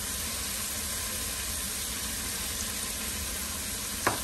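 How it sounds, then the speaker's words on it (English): Peppers, onions and broccoli sauté in a pan for a chicken and broccoli Alfredo, giving a soft, steady hiss throughout with a brief louder tap near the end. "My peppers and onions are sauteing up nicely."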